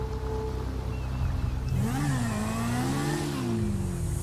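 Motorcycle engine revving in the GTA V game, a steady idle rising into a wavering rev that climbs, dips and climbs again, loud and close, with no talk.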